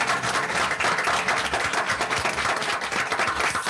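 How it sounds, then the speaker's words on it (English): Dense, continuous applause fills a school board meeting room at constant loudness, with no individual voice standing out. "You can give them a round of applause."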